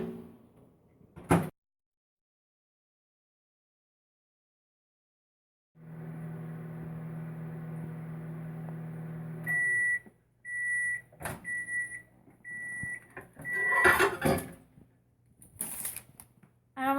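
A microwave oven door clunks shut, then the oven hums steadily while reheating potato chips, followed by beeps, the door opening and clattering handling sounds, with no talk.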